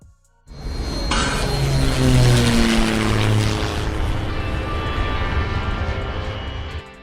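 A propeller airplane engine in the Flywings 2018 flight simulator game starts with a sudden loud rising drone and holds a steady, tonal, harmonic hum for several seconds, with no talking.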